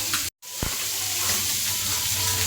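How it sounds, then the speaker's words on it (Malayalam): Ground masala paste for fish curry hits a hot pan still coated from frying fish, giving a loud continuous sizzle after a brief cutoff, with a short scrape of stirring. "മീൻ ഫ്രൈ ചെയ്യാൻ പുരട്ടി വെച്ച ഈ ചട്ടിയിൽ തന്നെയാണ് ഞാൻ കറി വയ്ക്കാൻ പോകുന്നത് അതിന് അരപ്പ് ചേർത്ത് കൊടുക്കുകയാണ്"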